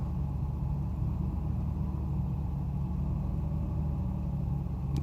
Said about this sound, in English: So this is the cold start.